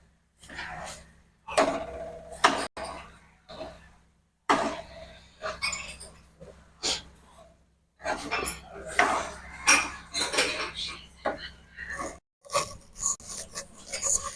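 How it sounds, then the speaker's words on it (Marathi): Gajar halwa, a carrot pudding, gets stirred in a pan at home, with a spoon scraping and clinking against the metal in irregular bursts while someone talks throughout. "आता आपण याला चांगला हलवून घेऊ."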